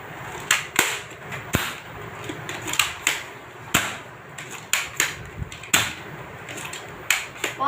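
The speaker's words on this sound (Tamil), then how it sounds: "நம்ம எடுத்து கை வச்சா மறுபடியும் ஒரு ரீலோட் பண்ணி போட்டு காமிக்கிறது சுட்டு." A Thunder Strike toy gun is reloaded and fired, giving a series of sharp plastic clicks and snaps at an irregular pace, close and fairly loud, with softer handling noise between them.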